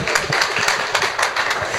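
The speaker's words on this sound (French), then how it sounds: "On va l'applaudir" Brief audience applause, a burst of quick claps with an uneven, pulsing rhythm, fairly loud and close, with no talk over it.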